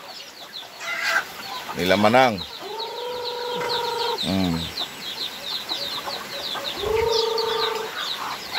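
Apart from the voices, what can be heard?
chickens clucking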